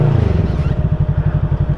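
A Fekon Falcon X 400 motorcycle engine runs close by at a loud, throbbing idle with a regular pulsing beat.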